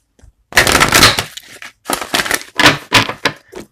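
Close, crackling bursts of tarot cards being riffled and shuffled, several rapid flurries in a row with brief pauses between them.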